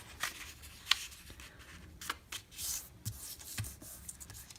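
A big sheet of paper is folded over to make a mini notebook: scattered crisp rustles and creases, close by, with a few sharper crackles and no talking.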